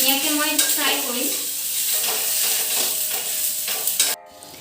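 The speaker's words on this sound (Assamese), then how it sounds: "দি পেলাই আলুখিনি ধুনীয়াকৈ মই ফ্ৰাই কৰিম" Mashed potatoes with onions sizzling and being stirred in a hot pan for aloo paratha filling, a steady frying crackle with scraping strokes throughout, cutting off abruptly near the end.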